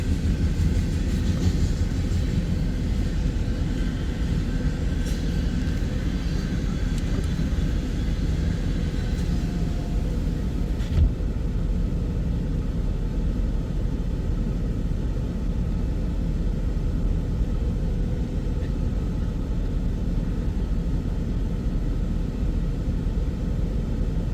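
A loaded eastbound freight train rolls past at Pacific Junction, Iowa, a steady deep rumble of wagons and wheels that fills the whole stretch, with a brighter metallic edge in the first half that drops away midway.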